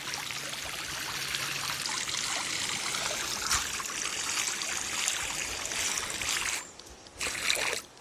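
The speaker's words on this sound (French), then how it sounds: "le jet va être bien plus concentré" Concentrated water jet from an AUTOPkio portable camping shower fitted with a nozzle accessory, a steady close hiss and spatter running continuously, then briefly cutting out and spurting again near the end.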